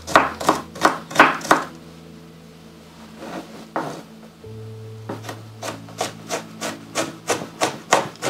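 A knife chops reindeer meat into smaller pieces on a board: a quick run of sharp thuds, a pause, then another even, rhythmic series of close chopping strikes with a faint hum underneath.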